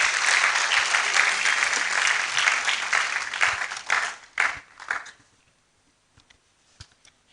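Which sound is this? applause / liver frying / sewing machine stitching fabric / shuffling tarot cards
applause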